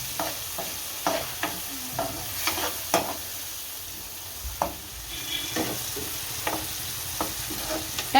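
Chopped tomatoes cooking in a hot pan while a spoon stirs them, a steady close sizzle broken by repeated scraping and clattering strokes at an uneven pace, with no talking.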